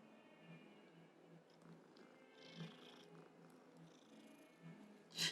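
A cat in the Hogwarts Legacy video game purrs softly and steadily, low and close, with faint game ambience and a small sound at the end.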